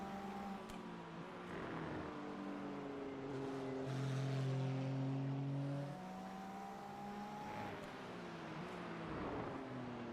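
A race car driving through the final turn at the Circuit of the Americas in an AARS race, its engine note sweeping through gear changes and climbing as it accelerates onto the front stretch, steady and fairly close with no talk.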